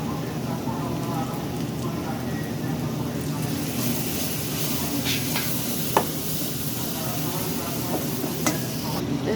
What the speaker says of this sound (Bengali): এই যে শুটকি দিয়ে কষানো হচ্ছে।